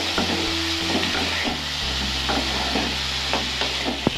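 Puti fish cooking in a hot pan with turmeric and salt, giving a steady low sizzle broken by scattered scraping stirs and soft clicks of a utensil against the pan, with no voices.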